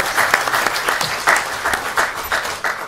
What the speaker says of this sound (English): Let's give all the speakers one more round of applause.